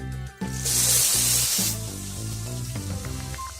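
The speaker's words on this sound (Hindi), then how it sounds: "आलू को फ्राई करना है।" Sliced potatoes dropped into half a cup of very hot oil hiss and sizzle loudly in a strong burst that settles into a steady fry, close up, with clattering and a soft tonal background underneath.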